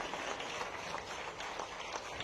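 Vigorous applause at an honouring ceremony for a world champion cricketer at a chief minister's residence, a faint, distant wash of many hands clapping steadily throughout.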